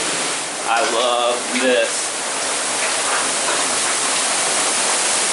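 Tunnel Falls on the Eagle Creek Trail roars as a steady, broad rush of falling water close by, with someone briefly speaking over it near the start.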